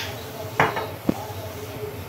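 A spatula scrapes and clanks against a metal pan while boiled veg chowmein noodles are tossed with soy sauce and vinegar. Two sharper metallic knocks stand out over a low, steady stir.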